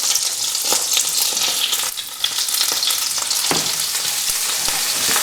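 Thai fish cakes fry in a pan of oil, a loud, dense, continuous sizzle heard close up, with a few faint scrapes and crackles and no talking.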